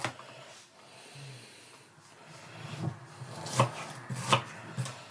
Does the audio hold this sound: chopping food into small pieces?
yes